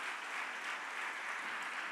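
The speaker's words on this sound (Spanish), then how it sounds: "Puedes darle un aplauso fuerte a ese Dios que tenemos" A congregation applauds in a church service, a short, soft wash of steady clapping heard at some distance, with no talking over it.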